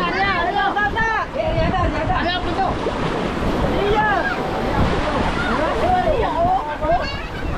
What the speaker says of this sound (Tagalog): Malaki ang alon.